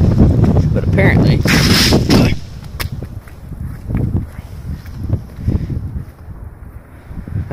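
Sea waves strike a concrete wave barricade on the Nagasaki waterfront, a loud, broad crash with gusty wind noise for about two seconds, then fading into softer surging water and wind.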